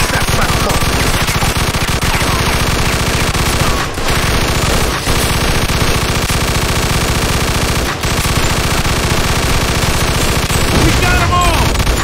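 Dense, continuous gunfire in the Mafia II video game, sustained bursts of automatic fire with brief pauses, loud and up close, with occasional voices mixed in.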